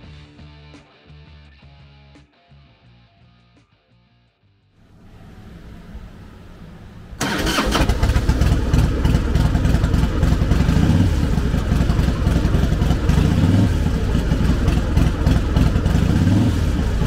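A 2004 Harley-Davidson Heritage Softail Classic's engine runs, quiet and uneven at first, then jumping to a loud, steady rumble with repeated revving pulses and mechanical clatter, an engine noise noted as needing attention.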